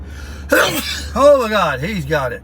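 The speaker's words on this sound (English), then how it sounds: "That was a sneeze." A single sharp sneeze burst close by, followed at once by a man's startled exclamation in a car with the air conditioning running.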